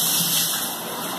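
Water runs steadily from a tap to fill a baby's bath, a continuous close rushing gush with no voices.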